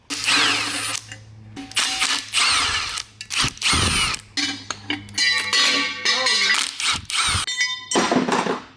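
A power tool trims a Type S oil pump during a K series engine install, with loud bursts of high-pitched whining and grinding broken by short pauses and small mechanical clicks and rattles.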